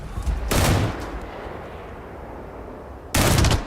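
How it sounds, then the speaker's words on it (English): Gunfire aimed at spiders in the video game Starfield: two loud, sharp bursts of shots roughly two and a half seconds apart, with a steady low ambient hum and faint noise in between. "I'm shooting at spiders now"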